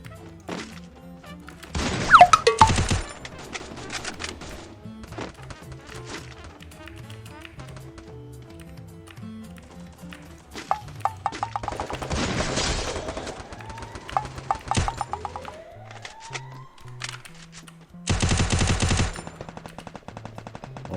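Gunfire in a 4v4 team shooting video game: bursts of rapid automatic shots at about 2, 12.5 and 18.5 seconds, with quieter single taps and game effects in between and a musical background throughout.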